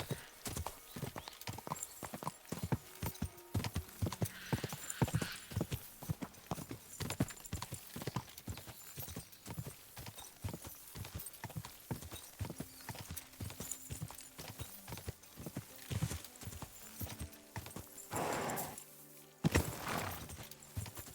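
Horse hooves clip-clop in a quick, regular rhythm across a stretch of ground in the medieval game Kingdom Come: Deliverance II, with a brief whinny and faint background sounds near the end.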